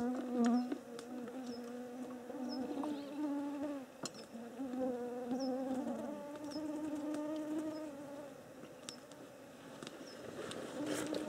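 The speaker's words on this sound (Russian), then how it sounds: "там комары прям в видеокамеру лезут" Mosquitoes buzz close to a camera on a long hiking trek, a thin droning whine that rises and falls as the insects swoop near, steady for several seconds with faint clicks and no talk.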